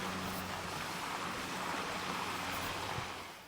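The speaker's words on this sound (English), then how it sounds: "love the creek." A countryside creek rushes in a steady, broad wash of flowing water, fairly near and continuous, with no voices over it.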